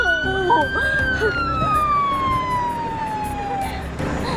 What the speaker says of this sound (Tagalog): andyan na yung ambulansya